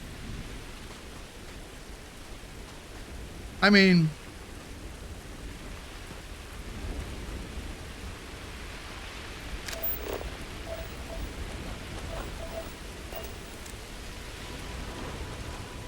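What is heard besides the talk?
freezing rain and thunder in a video game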